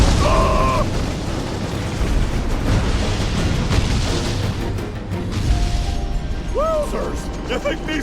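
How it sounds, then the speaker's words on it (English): Cannon fire and explosions sound in the Skylanders Giants video game as continuous loud, rumbling booms and crashes, with brief chirpy character vocal sounds and game effects near the start and end. "You think these people have enough cannons?"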